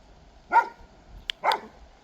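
A farm dog on a homestead barks twice, about a second apart; the sharp, fairly close barks stand alone in an otherwise quiet outdoor setting.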